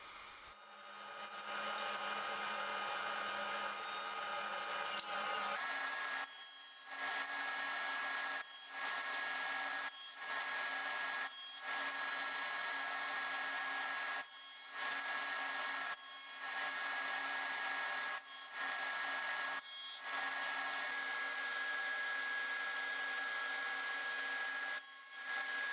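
A power saw crosscuts wooden side pieces for a chess-piece box to final width and length. The steady, loud whine runs alone and dips briefly about ten times in a regular rhythm.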